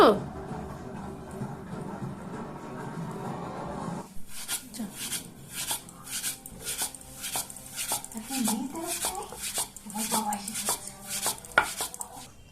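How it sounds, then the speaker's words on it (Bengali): A knife cuts small dough pieces for chushi pithe on a board in a home kitchen, starting with a soft scraping and shifting, then switching to rapid, sharp chops in uneven bursts, with occasional voices. "আমার সবটুকু সুশি কাটা হয়ে গেছে"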